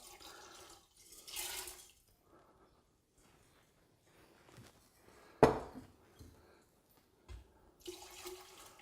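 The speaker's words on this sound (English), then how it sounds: "So what we need to do now is transfer the solution into the still" Cannabis solution, golden rather than green, pours into a still in a few short liquid gushes and splashes with quiet gaps between them, near and fairly soft, with one sharp clunk partway through.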